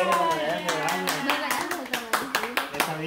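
Several people clapping in a regular rhythm of sharp, close claps, with someone speaking and voices running underneath throughout.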